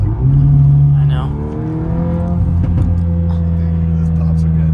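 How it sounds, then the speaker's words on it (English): Car exhaust revs hard with a steady deep engine drone and crackling pops, loud and close, as someone talks over it. "Dude, I just love these exhaust sounds."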